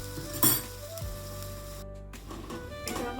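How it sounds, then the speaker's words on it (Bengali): Egg fried with boiled cabbage and tomato sizzling steadily in a pan, with a brief clink of a utensil against the pan early on and a short stir partway through. "এবার এটা একটু ভাজা ভাজা করবো"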